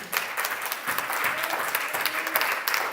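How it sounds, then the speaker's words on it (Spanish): A church congregation breaks into sustained applause, a dense wash of clapping hands filling the room for several seconds at steady loudness. "Dale una ofrenda de palmas a Dios."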